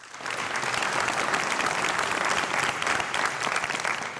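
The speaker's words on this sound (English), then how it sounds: "Another round of applause, please." A university awards ceremony audience gives a round of applause, dense sustained clapping from a large crowd, loud and even throughout.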